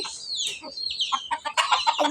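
Chickens at a village grandmother's house clucking and squawking in short bursts, fairly close, with a few overlapping calls toward the end and no clear talk.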